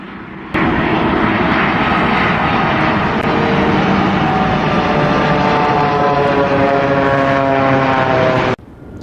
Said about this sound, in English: it's just a little turbine fan. And you'll hear it sound just like a small airplane. with a propeller.